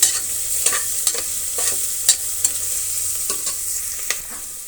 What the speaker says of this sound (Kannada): ಈಗ ಈರುಳ್ಳಿ ಜೊತೆಗೆ ಶುಂಠಿ ಬೆಳ್ಳುಳ್ಳಿ ಪೇಸ್ಟನ್ನು ಆ್ಯಡ್ ಮಾಡ್ತಾ ಇದ್ದೀನಿ. ಇದು ಒಂದು ಅರ್ಧ ನಿಮಿಷ ಫ್ರೈ ಆಗಲಿ.